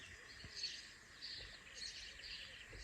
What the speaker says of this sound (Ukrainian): Послухайте, як співають пташки.